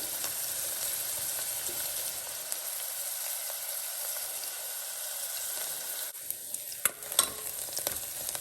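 Onions fry in a pan until golden for a potato tomato curry, with a continuous soft sizzle at moderate level and a few small clicks and taps near the end.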